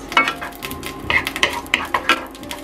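Garlic and ginger sizzle in a thin layer of oil in a frying pan, a soft steady fry broken by sharp clinks and scrapes of a utensil stirring against the pan, close by and without speech.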